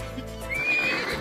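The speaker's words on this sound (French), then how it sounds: "C'est très bien Pistache, t'es un bon cheval." A horse gives a short, shrill whinny at a ranch, with faint hoof sounds beneath it, close by and over in just over a second.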